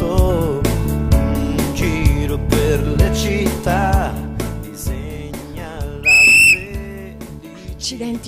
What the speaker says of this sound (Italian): Che grande gusto che ci hai preso a fischiare